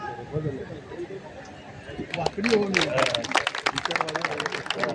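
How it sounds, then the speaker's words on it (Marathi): At a community silver jubilee celebration in Dharavi, a crowd breaks into loud, dense applause partway through, with many hands clapping close together over a murmur of voices and the background hubbub of the gathering. "जोरदार टाळ्या वाजवायच्या आहेत"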